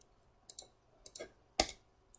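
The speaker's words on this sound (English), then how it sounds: "you click on the canvas to open the wheel using the left click on the mouse" Left button of a computer mouse clicked on a drawing canvas, a few crisp, light clicks spaced irregularly over about two seconds, close and quiet with no speech.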